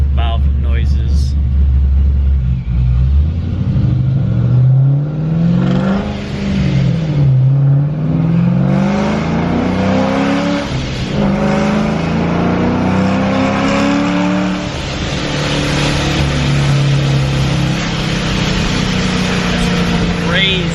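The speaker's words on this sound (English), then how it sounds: "let's roll down the windows and show some more blow-off valve noises" A car engine revs and shifts with a steady road roar, the turbo whooshing and its Procharger Big Red blow-off valve venting as it accelerates and downshifts, windows down, close and loud throughout.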